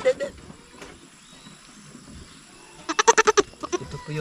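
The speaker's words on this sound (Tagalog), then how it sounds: "Yung mga maliit nating kambing na anak ni George." Young goat kids on a farm bleating: a few brief cries at the start, then a quick burst of rapid, wavering bleats near the end over faint background voices.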